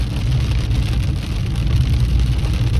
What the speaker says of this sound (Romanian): Așa se aude cum plouă în Dacia Spring.